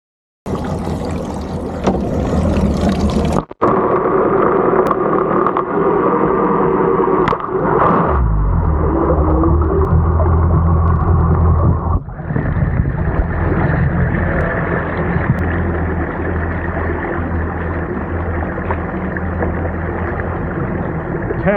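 Boat powered by a Mercury 300 SeaPro outboard motor running on the water, a steady loud engine drone with a sharp break early on and shifts in tone around eight and twelve seconds.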